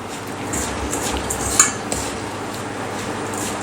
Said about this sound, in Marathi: आता हे व्यवस्थित मिक्स करून घेऊया